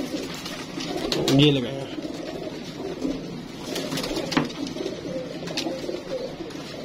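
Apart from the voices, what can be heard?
pigeons cooing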